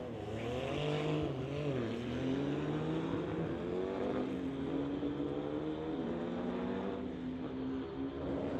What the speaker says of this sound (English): Here comes Porsche versus Volkswagen.